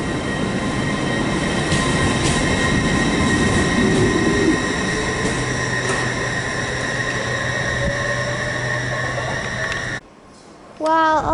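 Model LNER Azuma train pulling away on a large model railway layout, a steady rumbling roll with faint wheel squeal throughout, ending in a sudden drop and a few sharp clicks.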